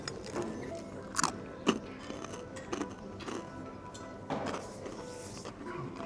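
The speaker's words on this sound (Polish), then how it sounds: "Mam nadzieję, że słyszeliście te chrupnięcia." Crunchy bread bitten and chewed at a breakfast table with a fried egg, giving a few sharp crunches and soft chewing sounds close up over a quiet room.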